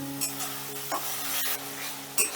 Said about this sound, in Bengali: এই মশলাটাকেও আমি বেশ খানিক্ষণ কষে নেব যতক্ষণ না মশলাটা থেকে তেল ছেড়ে দিচ্ছে